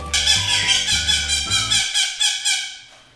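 Parrot screeching loudly and up close in a series of rapid, harsh squawks over about two seconds, then trailing off into a higher, thinner call that fades out.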